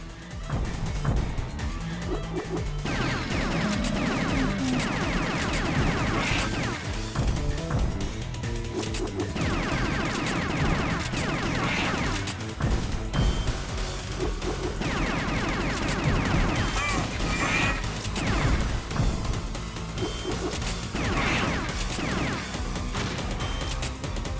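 Rapid bursts of gunfire and crashing impacts from the House of the Dead arcade shooter, loud and continuous with game sounds and music layered throughout, no one speaking.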